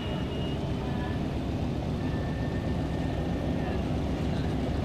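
A World War II F4U Corsair fighter with an R2800 radial engine drones steadily and loudly, a thick continuous low rumble with a faint whining tone, holding constant throughout without talk.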